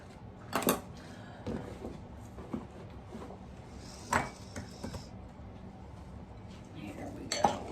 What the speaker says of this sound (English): And I'm just gonna cut this up before I put it in that blender.